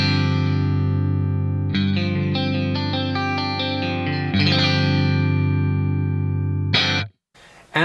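Stratocaster electric guitar on its neck and middle pickups, played through a Fractal AX8 with chorus and effects pedals, a sustained chord followed by picked notes and strums, close and clear, ending in a brief scratch and silence.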